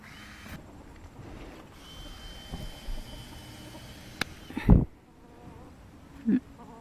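Insects buzz faintly around a vegetable garden with tomato plants in late July, a soft drone with a couple of louder passes close by.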